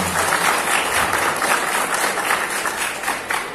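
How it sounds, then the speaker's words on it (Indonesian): An audience applauds performing children at an Indonesian school anti-drug declaration event, a continuous, even roar of claps throughout the clip. "Tepuk tangan untuk anak semua."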